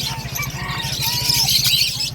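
A bird offered for sale at a market calls with short squawks and chirps over a low rhythmic background hum; no voices.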